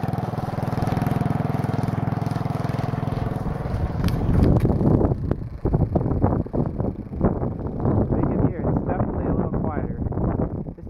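Go-kart engine fitted with a performance muffler, a low, throaty idle that rises into a rough, popping rev, close to the microphone with some wind buffeting.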